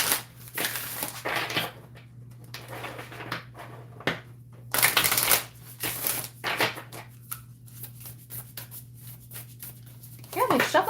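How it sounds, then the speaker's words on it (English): Matte-finish, flexible oracle cards shuffled by hand, giving soft papery riffles and rustles in irregular bursts at close range, with a steady low hum underneath and a voice speaking intermittently. "They feel really good shuffling."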